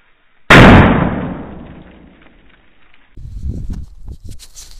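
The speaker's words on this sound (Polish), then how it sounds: "weźmiemy sobie następną petardę." One sharp, loud firecracker bang goes off nearby over water and rings out as it decays, followed by faint rustling and shuffling sounds.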